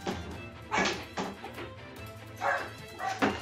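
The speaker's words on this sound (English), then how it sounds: "She just barks when I leave the room" A pet dog barking after her owner leaves the room, a few short, moderately close barks spaced unevenly over a quiet room background.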